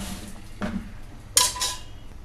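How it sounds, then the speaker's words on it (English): A metal utensil clanks against a cooking pot as mutton stock is transferred into milk gravy for a Lucknow mutton dum biryani. There are three or four sharp, close knocks and scrapes with quiet gaps between them. "Now let us transfer the mutton stock also into the milk gravy."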